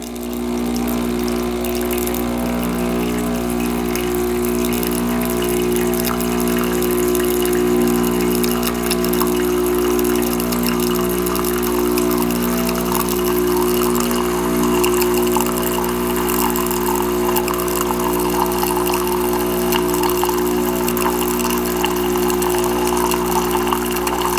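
A loud, continuous mechanical hum of a Gaggia Cadorna superautomatic espresso machine pump dispensing hot water, rushing steadily through it, unchanging for the whole stretch.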